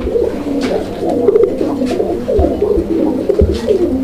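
Pigeons coo continuously in low, throaty rolling calls, several birds overlapping close by, with a few soft thumps in the background.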